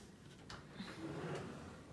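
A drawer slides open in a hotel room at the St. Regis Macau, one short soft scrape and knock heard close up in a quiet room.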